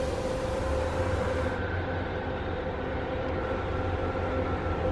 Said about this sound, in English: I'm on the train.